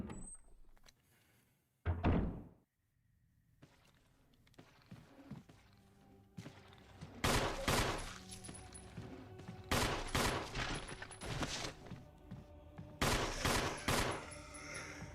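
Automatic gunfire from a weapon in the Resident Evil Remake video game: after a quiet start with a single thump, several loud bursts of rapid shots break out in the second half, separated by short pauses.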